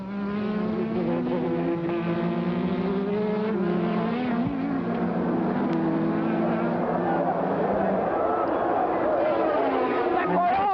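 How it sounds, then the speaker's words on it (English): 1987 Formula One cars race past the commentary position at the Brazilian Grand Prix, their high-pitched engines wailing loudly and steadily with shifting pitch as they go by, while a commentator talks over the noise. "He goes past our commentary position, then Senna, then Mansell's caught up"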